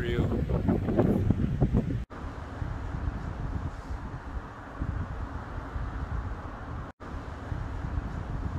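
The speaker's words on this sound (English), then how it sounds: "I'm going to try to give you a little picture here of some of our wind storms." Steady roaring wind buffets the microphone with a low, continuous rumble, briefly broken by a couple of short dropouts.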